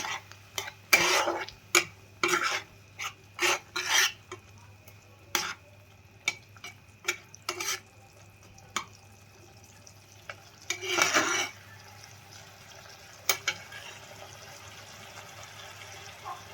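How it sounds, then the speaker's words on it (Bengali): A paneer curry being stirred in a pan, with repeated short scraping and clinking strokes of a spoon against the pan over a quiet, faint background, pausing between stirs; no one talks. "আবার একটু নাড়াচাড়া করে নেওয়ার পালা"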